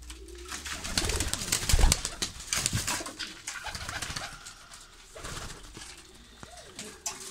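Pigeons coo repeatedly in soft, rolling phrases, fairly close and clear, with occasional faint rustling and no talk over them.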